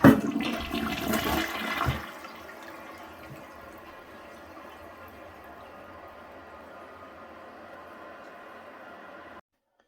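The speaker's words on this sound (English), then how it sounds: "Next, we'll demonstrate a press and release flush." A Mansfield Alto toilet, a third-generation model from the 2000s, flushed with a press-and-release of the handle: a loud gushing rush for about two seconds, then a long quieter hiss of water refilling the tank.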